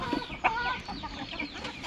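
Native desi hens on a rooftop chicken project cluck in short, uneven bursts, several birds close by calling over one another without any speech.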